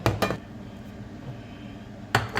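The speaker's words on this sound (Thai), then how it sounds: "เลื่อนกระทะก่อนนะคะ" A metal frying pan scrapes and clanks briefly at the start and again at the end, with quiet room tone in between.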